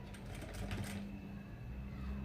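A sewing machine stitching a blouse at the edge of the fabric, a faint, quick run of mechanical needle chatter early on, then a low steady motor hum.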